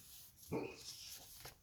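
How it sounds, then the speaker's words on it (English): A dog gives faint, muffled whimpers and soft yips in its sleep, a couple of brief squeaky sounds in a quiet room. "my dog is having a dream, if you can hear him in the background"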